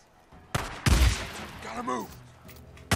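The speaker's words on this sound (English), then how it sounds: "the shotgun is not that effective from distance" A shotgun fires in the video game Days Gone, giving a couple of sharp, booming blasts close up, followed by brief game sounds and a voice in the background.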